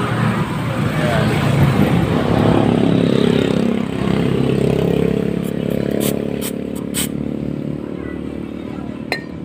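A Honda Mio i 125 scooter engine with a dirty throttle body runs close by, a rough revving hum that swells and then settles to an idle, with a few clicks near the end.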